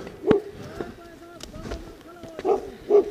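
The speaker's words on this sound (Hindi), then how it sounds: "तो बिल्कुल कुत्ते आ चुके हैं।" Dogs bark on a Himalayan trek to Brahmatal near a large herd of goats: three short, sharp barks, one early and two near the end, over a faint outdoor background.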